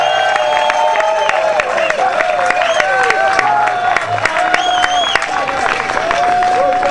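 Crowd at the MardiGrass 2008 parade floats cheers and claps with dense, continuous applause, excited voices and shouts mixed in, at a loud, close level throughout.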